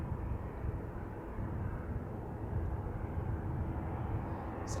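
Boeing 737-700 airliner at Manchester Airport, a steady broad roar of jet engines heard from outside at moderate distance, constant and unbroken for the whole stretch, with no voices.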